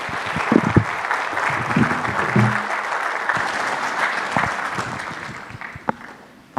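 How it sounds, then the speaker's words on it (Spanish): Congregation at a Bible seminar applauds after a prayer, a steady wash of clapping with a few louder nearby claps and faint voices mixed in, gradually fading toward the end. "vamos a aplaudir fuertemente por este mensaje"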